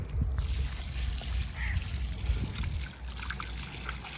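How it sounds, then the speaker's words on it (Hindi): Water is poured onto a newly planted sapling at a grave, a steady trickle and splash running for several seconds over low outdoor rumble, close and moderate in level. "ये पानी डालिएगा।"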